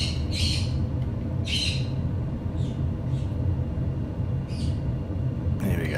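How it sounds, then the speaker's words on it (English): Birds in Microsoft Flight Simulator 2020 at Nelson, New Zealand give several short bright chirping bursts spaced irregularly over a constant low engine drone, with a voice talking quietly in the background. "The birds start to sing."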